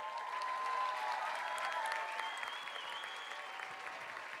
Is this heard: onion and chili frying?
no